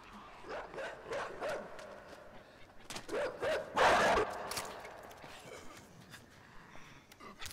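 A dog in the game INSIDE barks and yelps in repeated bursts, with a loud close flurry in the middle and faint footsteps and scuffling between the barks.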